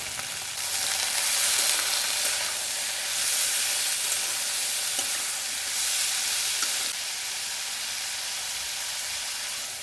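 Bitter gourd frying on low flame in a pan with black cumin, chili, salt and turmeric, a steady broadband sizzle with periodic stirring swells, close and continuous, no talking.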